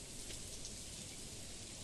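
Steady rain in the farming video game Stardew Valley, a soft, even hiss of falling drops with no variation, faint and continuous with no voices.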